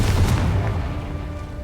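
A Confringo blasting spell from the video game Hogwarts Legacy goes off as a loud, low, rumbling blast that fills the short moment and fades only slightly.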